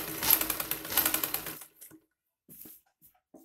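A sewing machine runs in a quick stitching burst while sewing a high-neck Chinese collar with the garment turned to the reverse side, then stops, leaving a few faint soft handling sounds.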